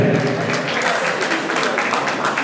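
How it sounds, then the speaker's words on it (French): An audience applauds loudly at a ceremonial presentation of outfits before royalty, a thick, continuous wash of clapping with voices mixed in. "Est-ce qu'on peut applaudir très fort pour Ibrahim?"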